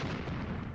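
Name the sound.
artillery fire getting closer, from video game Graviteam Tactics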